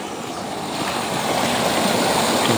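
Water runs steadily through a drainage channel in a village, carrying runoff from dumped soil and sand out into a pond. The rush is a continuous broadband flow, loud and close, swelling slightly, with no voices.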